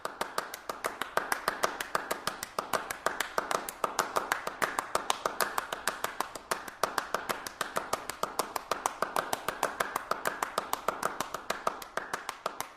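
A piece performed as a repeated rhythmic hand-clapping pattern with interlocking parts: crisp, close claps in a steady, tightly patterned pulse that runs without a break.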